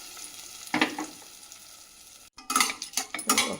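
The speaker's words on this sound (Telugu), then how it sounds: "ఇప్పుడు ఈ పోపుని మనం ఈ విధంగా" A hot tempering is poured into pressure-cooked onion curry, giving a short loud sizzle, a pause, then a second burst of spattering crackle close by.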